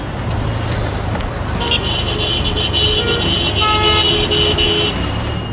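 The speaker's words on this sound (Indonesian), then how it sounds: "semua juga saling membunyikan klakson, walaupun jarak antara satu kendaraan dengan yang lain cukup jauh" Loud, steady road traffic with several car horns tooting over one another, some short, some held for a few seconds, even with vehicles well spaced.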